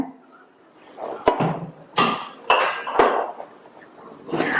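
A spoon mixes a drumstick-leaf and gram-flour batter with salt in a bowl, giving several sharp knocks and clinks against the bowl spaced about half a second apart, with soft wet mixing between them, close and with no talk.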